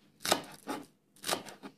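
Fresh green onions are chopped with a knife for an egg salad, giving two pairs of crisp, close blade strokes against a cutting board with short quiet gaps between them.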